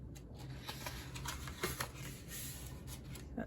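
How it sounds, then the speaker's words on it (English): Paper card stock being folded in half along score lines at a craft table, giving soft, close crinkling and rustling with a few sharper creasing swipes, steady and quiet with no talking. "You're going to fold it in half at the score lines."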